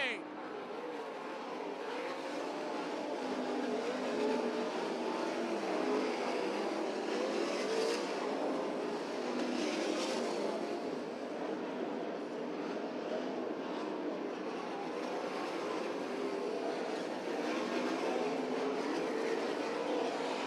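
Sprint cars race around the IRA track at Beaver Dam, a distant, steady engine roar with swelling passes, while an announcer talks over it the whole time.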